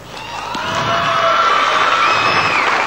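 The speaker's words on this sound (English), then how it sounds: "let's have a big round of applause for him." A crowd at a 1988 TV telethon cheers, whoops and claps for a guitarist, swelling quickly into a loud, sustained roar of shouts and applause.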